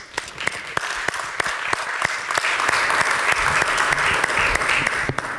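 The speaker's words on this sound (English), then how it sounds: "Let's give an applause to Arturo and Alberto, please." Audience applause at a documentary industry conference in Barcelona, welcoming two presenters: sharp individual claps up front soon joined by a fuller, continuous wash of clapping from the room.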